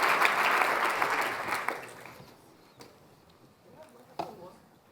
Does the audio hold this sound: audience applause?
yes